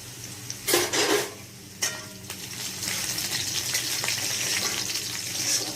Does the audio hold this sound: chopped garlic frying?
yes